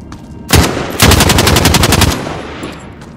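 Automatic gunfire from Call of Duty Modern Warfare: a single loud shot, then a rapid close burst lasting about a second, trailing off into echo.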